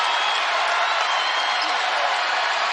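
Basketball crowd at an NCAA Tournament game between Indiana and Miami roars on its feet, a loud, dense, sustained wall of cheering and applause that fills the whole stretch without a break.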